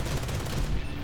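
Rapid, loud bursts of heavy gunfire from an aircraft's centerline cannon in a video game pound continuously through the whole short moment, dense and booming like a cannon firing in quick succession.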